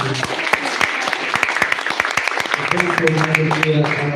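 A crowd claps for EcoShine, a recycling and fertilizer startup, at a live pitch event. The clapping is dense and continuous, and a voice starts talking over it toward the end.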